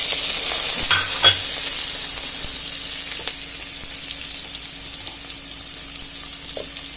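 Garlic and onion frying in a pan for a banana heart dish, a steady close sizzle with a few sharp scraping stirs early on, then continuous crackling hiss with no talk.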